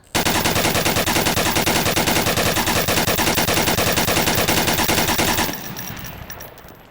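A light machine gun fires in the VR game Onward, a loud, sustained automatic burst of evenly spaced rapid shots lasting about five seconds before cutting off into a fading echo.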